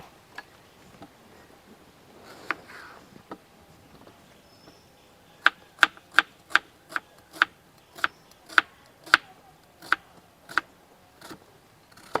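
A knife chopping two medium-sized garlic cloves on a cutting board: a few scattered taps, then a quick, steady run of crisp, evenly spaced chops, close and clear in a quiet kitchen.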